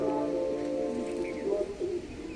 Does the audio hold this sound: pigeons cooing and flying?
yes